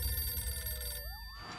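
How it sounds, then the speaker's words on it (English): A telephone bell rings in a movie trailer for Jack Reacher, a bright trilling ring over low rumbling score that breaks off partway through as a sliding tone rises. "that phone over there is gonna ring"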